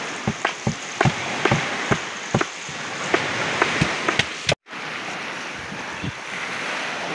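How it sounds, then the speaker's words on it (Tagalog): Sea surf washing steadily under gusty wind rumble, with scattered sharp knocks and splashes, like a small boat slapping through choppy water, on a beach in the Philippines. "nag-alon-alon naman yung dagat"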